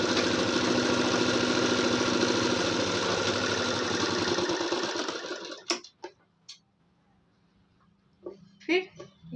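Sewing machine stitching a blouse runs in a loud, steady rapid whir for several seconds, then stops abruptly, followed by a few faint clicks and soft handling noises.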